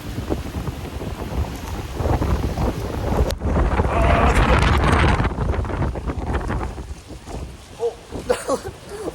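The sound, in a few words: strong wind gusts blowing on microphone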